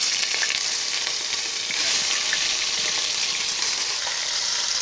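Chicken pieces frying in a pan for an Algerian-style chicken chtitha give a steady, dense sizzle that crackles evenly and without pause throughout.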